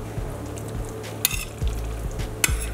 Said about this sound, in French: Donc je mélange le tout.